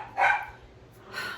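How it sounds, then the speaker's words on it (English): Puppies bark in a home. Two short, faint yips come from some distance, one near the start and one near the end, over quiet room noise. "I know that you're hearing the puppies."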